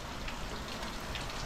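Heavy rain pours down in a dense, continuous hiss of drops striking surfaces, steady and close with no voices.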